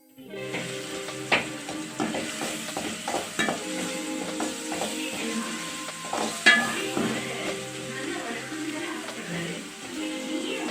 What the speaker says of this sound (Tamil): தக்காளி முழுசாக இல்லாமல் நல்லா வதக்கிக்கலாம்.